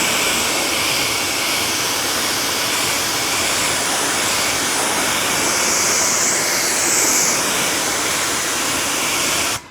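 A steady, loud rush of water from a hose rinses soap off a car's ceramic-coated panel, a continuous close spray that cuts off abruptly at the end.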